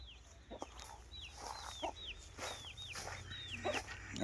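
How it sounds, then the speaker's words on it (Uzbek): Young chickens kept by a friend, sounding close by: a busy run of high peeping chirps mixed with low clucks, over a steady low hum. "Bu oshnamning o'zining jo'jalari bular"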